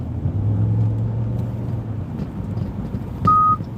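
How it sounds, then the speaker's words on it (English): A truck's warning beep sounds as one short, steady tone near the end, rising over a low rumble of engine or road noise. "Why is my truck beeping?"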